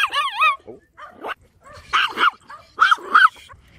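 A small, angry chihuahua yaps and growls at other dogs nearby. A wavering whine is followed by a series of short, sharp, close barks in uneven bursts separated by brief pauses.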